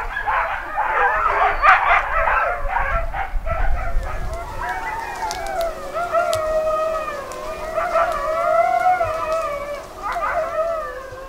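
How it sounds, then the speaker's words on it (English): Many sled dogs in Ilulissat, Greenland, bark at feeding time. The barking is busy and overlapping at first, then gives way to a long chorus of rising and falling howls from several dogs, moderately near. "Feeding time for the sled dogs."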